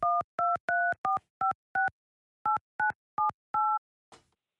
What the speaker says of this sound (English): I'm going to call him right now